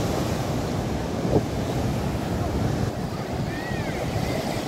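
Ocean waves roar steadily at Marina Beach in Chennai, a continuous broadband wash with wind buffeting the microphone and faint distant calls over the surf.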